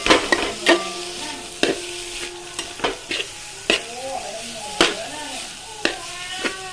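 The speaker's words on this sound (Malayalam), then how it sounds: "ഒരു അരമുറി തേങ്ങ ഇട്ട് ആദ്യം ഇളക്കി." Grated coconut is stirred in a hot frying pan, a spatula scraping and clacking against the pan in repeated distinct strokes over a soft, steady sizzle.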